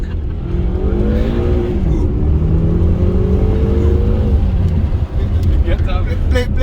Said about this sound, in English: Daniel, you got some noises there from the gearbox. From the Exhaust.